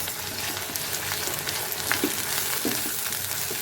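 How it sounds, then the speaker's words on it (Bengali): Beef liver bhuna, a kilo of kolija cooked down with turmeric and chili, frying in a pan with a steady close crackling sizzle and occasional stirring scrapes, no voices. "এখানে আমি 1 কেজি পরিমাণের কলিজা ভুনা করছি"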